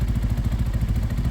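A Sinnis Outlaw 125 motorcycle idles at close range, a soft, steady, rapid low putter with a faint mechanical clatter and no voices.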